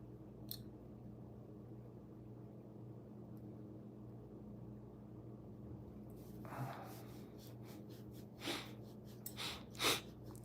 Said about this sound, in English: Pardon me, I'm still sniffling.